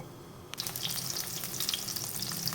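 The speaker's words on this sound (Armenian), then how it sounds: "Հիմա երկու կողմից տապակում ենք ու ցածր կրակին, որպեսզի լավ եփվի։" Eggplant slices frying in oil on low heat, a quiet hiss that starts abruptly and continues as a close, even sizzle with small crackling pops.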